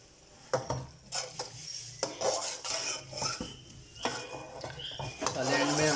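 A metal spoon scrapes and clinks against a cooking pot while black pepper and garam masala are stirred into vegetable biryani, with irregular close scraping strokes and knocks continuing throughout.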